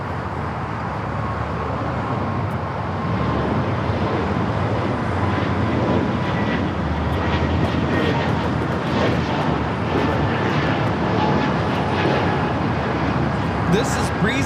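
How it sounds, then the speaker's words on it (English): A Breeze Airways Airbus A220-300 jet takes off from the south side at LAX, bound for Pittsburgh, with a steady, loud broadband engine roar that holds through the whole stretch. "Airbus A220-300 taking off here on the south side"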